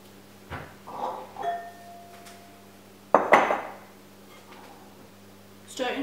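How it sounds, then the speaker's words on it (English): Dishes knock and clatter in a home kitchen as a mixing bowl is pulled out and set down, a few brief clinks and one louder clatter, close by and otherwise quiet. "Get a bowl."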